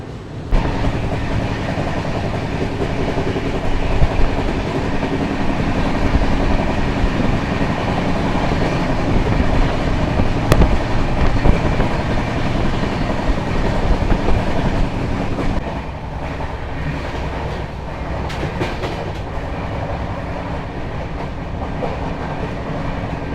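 Amritsar Intercity Express train moving on rails, a steady close rumble with rhythmic clickety-clack of wheels running continuously and easing slightly toward the end, with no voices.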